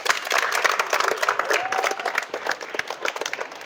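Applause and scattered clapping from a crowd, likely schoolchildren at a government school in Bihar, steady and fairly loud throughout with no speech over it.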